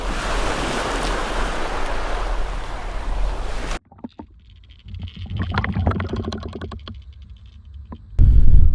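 Wind roars against the microphone in a loud broadband rush, then drops away to quieter rustling before a heavy gust buffets in again.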